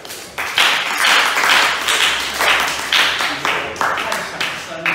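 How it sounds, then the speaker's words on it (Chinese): A classroom of students claps together, a dense burst of applause with overlapping voices and chatter mixed in, fairly loud and close, rising and falling in waves. "好，我就要掌声鼓励啊！"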